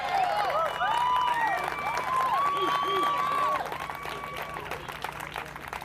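Crowd applause and cheering for Staff Sergeant Seth Galloway, third-place finisher at an Air Force Alpha Warrior Championship obstacle race, loud and sustained, with an announcer's voice carrying over it.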